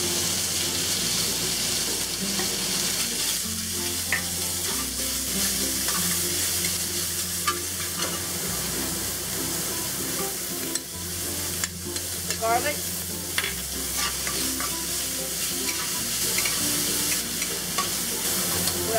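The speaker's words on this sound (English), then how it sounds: "We'll cook up the pork first. We'll add a little oil to the pan. Pan is set at medium-high heat." Pork stir-fries in an oiled pan over medium-high heat, giving a continuous close sizzle and hiss with occasional scraping and clinks of a utensil, a low hum alongside throughout.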